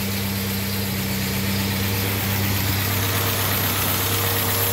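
A 1955 M38A1 army jeep engine with a freshly rebuilt Carter YS-950 S carburetor idles steadily and loudly up close, a continuous low rumble with a slight knock and no voices.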